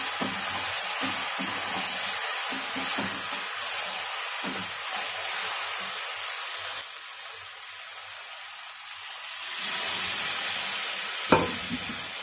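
Boiled dal hits fried eggs in a hot pan with a loud sizzle, followed by scraping stirs and a steady frying hiss that fades and then swells again near the end.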